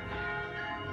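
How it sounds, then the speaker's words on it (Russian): Church bells in central Minsk ring out with a loud, sustained metallic peal, rich overlapping tones resonating steadily and clearly without speech. "колокольный звон?"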